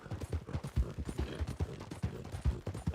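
Hooves of a Breton horse ridden in a video game clip-clop steadily in a quick, even rhythm, close and clear with little else around them.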